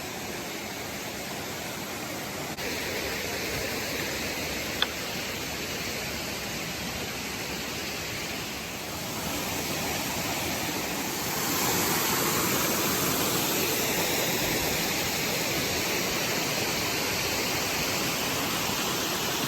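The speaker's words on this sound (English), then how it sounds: "I hear a waterfall." A steady broadband rush of falling water roars without pause, growing slightly louder partway through, like a waterfall heard from nearby.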